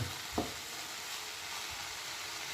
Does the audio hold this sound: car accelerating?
no